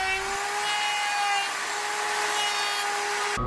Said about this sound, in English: Now I'm going to use my router planer jig to cut notches in all 3 of the necks.